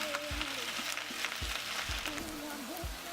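Onions and spinach sauté in a pan with salt and a bit of bouillon cube, giving a steady sizzle and occasional low thumps of stirring, close and alone.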